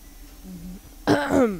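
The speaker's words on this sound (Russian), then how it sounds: "извините за раздражающий кашель" A single sharp cough-like burst, close and fairly loud, after a brief low hum of voice.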